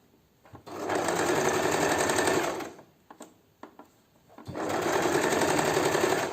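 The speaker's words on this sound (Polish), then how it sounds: "Pomalutku zbliżam się do igły, wypinam i szyję dalej." A sewing machine stitches a tulip appliqué stem onto a bag in two steady, loud runs of fast motor whir and needle rattle, split by a short pause with a few brief stitches.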